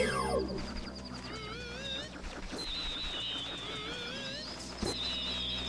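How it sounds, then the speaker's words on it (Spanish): Mosquito buzzing in the Nintendo 64 game The Legend of Zelda: Majora's Mask, a thin wavering whine that rises and falls repeatedly over steady game music, continuous and fairly close, with no talking. "Mosquito."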